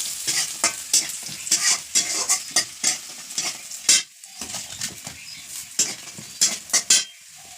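Vegetables and fried lentil dumplings frying in a pan for a Bengali ghonto, with a steady sizzle broken by repeated sharp scrapes and clatters of stirring close up, no voices.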